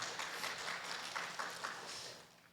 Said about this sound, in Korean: 일어서시면 크게 환영의 박수 보내겠습니다.